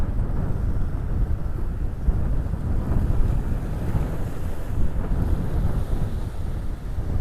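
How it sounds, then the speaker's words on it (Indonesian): Strong wind buffets the microphone in a steady, loud roar over the rumble of large ocean waves at a shore in Banda Aceh, continuous for the whole stretch with no talk. "Ombaknya besar."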